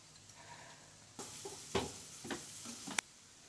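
Square-cut capsicum pieces dropped into a hot pan and sautéed for egg fried rice, with a burst of sizzling followed by several stirring scrapes and light clinks of the spatula.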